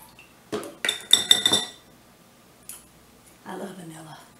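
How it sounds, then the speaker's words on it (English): Metal kitchen utensils clink and tap in a quick cluster of bright strikes while a teaspoon of vanilla goes in for wheat, cinnamon and raisin pancake batter, followed by softer handling sounds; fairly close and moderately loud. "I'm going to go ahead and put my vanilla in first."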